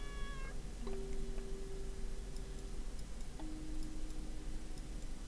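A cat meows a couple of times, drawn-out and clear, in the horror video game Layers of Fear: Inheritance, over a faint ticking clock and a low ambient hum.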